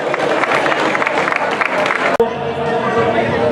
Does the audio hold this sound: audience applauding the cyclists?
yes